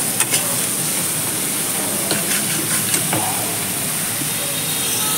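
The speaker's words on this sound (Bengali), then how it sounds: "পেঁয়াজ বাটাটা ভালো করে ভেজে নেব।" Onion paste frying in hot oil with dried chilli, cinnamon, cloves and garlic gives a steady, soft sizzle and hiss, with a few faint scrapes of stirring.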